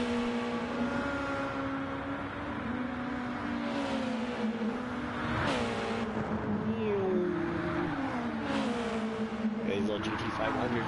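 GT500 race cars in a racing game on the Trial Mountain circuit, engines droning and shifting pitch as they accelerate and pass, with a person talking over the engine sound throughout.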